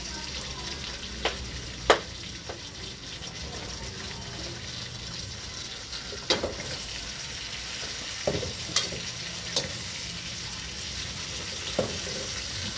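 Pork steak sizzles and fries steadily in a hot pan as chili is added, with sharp stirring clicks and utensil taps breaking through the continuous crackle.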